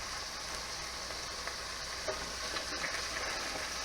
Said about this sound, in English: You hear it frying up nicely.